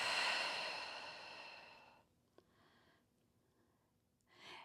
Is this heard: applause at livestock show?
no